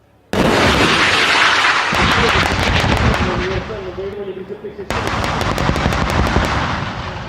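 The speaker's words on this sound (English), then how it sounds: "The APC lays down suppressive fire, while infantry clear one hideout after another." An armored personnel carrier lays down suppressive fire in combat, loud sustained bursts of rapid automatic gunfire with rumbling blasts, a brief lull, then another rapid volley.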